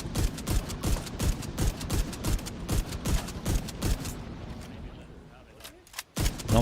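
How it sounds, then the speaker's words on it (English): Turret gunfire in The Division 2 video game, a rapid loud burst of regular shots for about four seconds that then stops, followed by quieter sound and a single sharp hit near the end, with a voice talking. "Okay, shoot me with the turret now."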